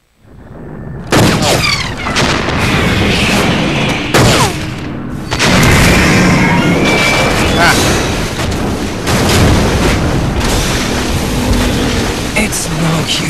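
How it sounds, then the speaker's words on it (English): Loud, dense missile explosions batter Metal Gear in Metal Gear Solid 2, starting after a short quiet with a heavy boom, then a near-continuous roar of blasts and crackling impacts over about twelve seconds. "one more missile in the face, and that should do it"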